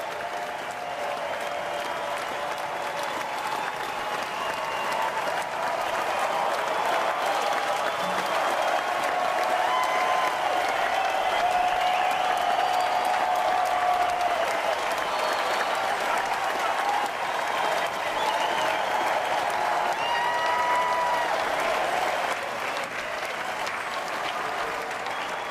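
Sustained applause from a large golf gallery around the 18th green at the Masters, a broad steady wash of clapping held for the whole stretch, with distant cheers and voices blended in.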